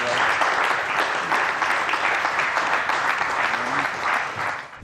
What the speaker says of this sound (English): A wave of relief washed over the crowd and officials who erupted in applause.